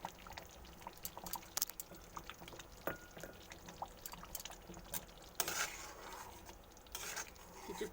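A paneer curry simmers gently in a pan, with faint bubbling, soft pops and occasional louder spattering bursts.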